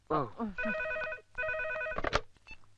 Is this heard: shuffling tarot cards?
no